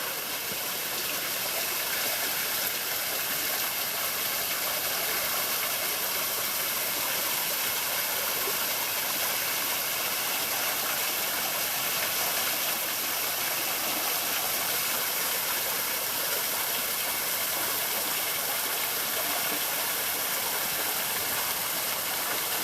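Turtle Falls at Faulconbridge in the Blue Mountains pours steadily, a dense, even rush of falling water that holds unbroken and loud throughout, with no voices.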